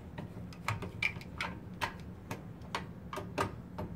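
Allen wrench turning in a Fire-Lite BG12 fire alarm pull station to reset it, giving a series of small, irregular metallic ticks and clicks close up at low level, with no talk.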